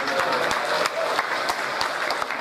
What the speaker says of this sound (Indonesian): Tepuk tangan buat kubu.